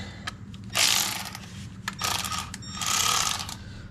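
A hand ratchet clicks in three bursts of rapid pawl clicking while tightening bolts on an OBS Chevy truck's cab mounts and exhaust bracket, with brief pauses between strokes, close and clear.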